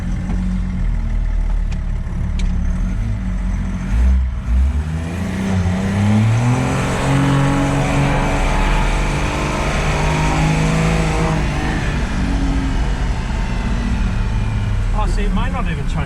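A Toyota FJ75 Troopcarrier with a 300hp M57 engine drives around the block, its loud engine heard from inside the cab as it drones and rises steadily through acceleration, with people talking over it.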